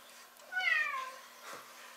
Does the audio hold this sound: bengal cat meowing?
yes